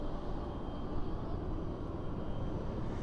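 A UPS cargo plane at DFW airport at night gives a steady, low engine roar with a broad rumble, heard from a distance and staying even throughout, with no talking.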